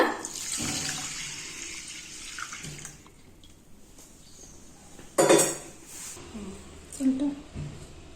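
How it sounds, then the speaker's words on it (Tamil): Water pours steadily into a metal pot of rice for a few seconds, followed by clinks and knocks of cookware. "அதே டம்ளரில் அஞ்சு டம்ளர் தண்ணி ஊற்றுறங்க"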